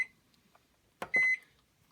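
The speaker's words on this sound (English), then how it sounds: "You get a beep to tell you like you put it on, and every time you push the button" On a black Bush V6SDB tumble dryer, a button click is followed by one short, clear electronic beep in a quiet room, after the tail of an earlier beep.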